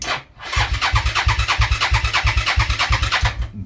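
A Suzuki SV650 motorcycle with empty carburettors is cranked on the starter, a loud, steady run of rapid rhythmic chugging pulses lasting several seconds, heard close up with no talking.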